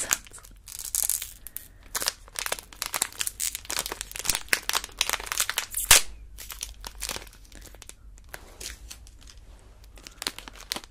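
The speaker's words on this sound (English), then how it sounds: "Again, really good crinkle sounds." Crinkly wrapper of a Japanese snack from a Bokksu box, rustled and crumpled up close in a quiet room, with dense bursts of crackling, a sharp louder crunch midway and quieter crinkles toward the end.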